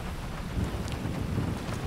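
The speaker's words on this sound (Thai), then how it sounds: "โอ้เสียงฟ้าร้องนะฮะ" Thunder rumbling with rain in the video game GTA V, a low continuous roll heard alone for a couple of seconds.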